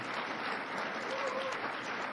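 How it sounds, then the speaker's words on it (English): Audience at a National Adoption Month event breaks into steady, moderately loud applause that holds at an even level throughout the short stretch. "So how about a big round of applause for that team, too?"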